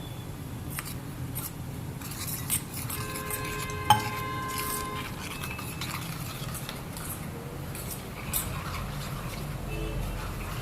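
A spoon stirs chole masala with water in a metal pot in a home kitchen, soft scraping and occasional light clinks against the pot over a low, steady background.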